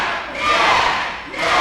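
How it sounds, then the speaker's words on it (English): A wrestling crowd cheers and roars at the Gresham Rec Center during a Friday-night main event, a loud sustained wave of voices that dips briefly and then swells again. "you can hear this crowd here at the Gresham Rec Center"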